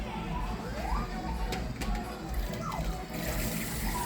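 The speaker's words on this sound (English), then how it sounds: "so we will rinse out our bowl to make sure all the contents come out" Tap water runs steadily into a bowl being rinsed out after mixing Trini chicken pelau, with a soft continuous splash and a couple of brief clinks, close by and fairly quiet.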